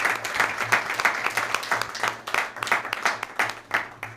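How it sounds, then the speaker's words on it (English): A room at a school district board meeting gives the high school ASB a round of applause: sustained scattered clapping from a modest crowd, moderately loud and unbroken for several seconds. "So give our ASB a round of applause."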